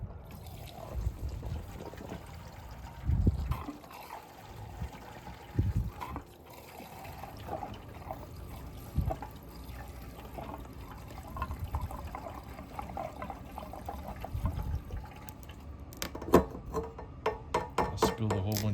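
Gasoline pours and trickles in uneven spurts into the fuel tank of a 2021 Yamaha XT250 motorcycle, with intermittent handling noises and some background sounds, but no clear speech.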